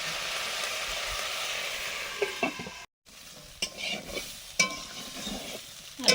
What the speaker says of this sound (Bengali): আলুগুলো পরপর একটু ঢাকা চাপা দিয়ে দিয়ে ভেজে নিচ্ছি যাতে একটু সেদ্ধ হয়ে যায়